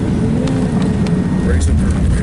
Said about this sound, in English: We are landing officially now.